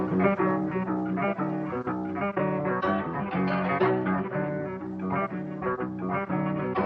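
Pitched-down trap beat melody programmed in FL Studio plays alone, a dense, steady loop of layered synth notes at moderate volume with no drums standing out and no speech.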